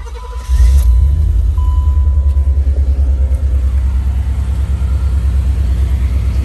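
Engine of a boxy older Chevy car idles in a low, steady rumble after a brief tap of the gas, close and loud, with a short blip near the start and no talk over it.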